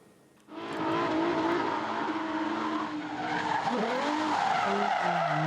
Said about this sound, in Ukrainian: Потужні двигуни, круті повороти і заноси автівки, від яких у пасажирів зашкалює адреналін.